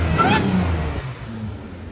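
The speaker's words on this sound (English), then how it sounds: "can hear the supercharger a lot more." A C7 Audi A6 3.0T supercharged engine fitted with a 034Motorsport 207mm crank pulley and stock air box accelerates hard, a loud surging roar with faint whine tones for about a second, then easing to a lower, steady rumble.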